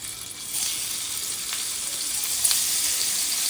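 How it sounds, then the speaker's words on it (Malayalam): Paneer pieces shallow frying in hot oil give a loud, continuous hissing sizzle that holds steady throughout, with a couple of faint pops and no talking. "നമുക്ക് പനീർ പീസസ് ഇട്ട് കൊടുത്ത് ഫ്രൈ ചെയ്യാം."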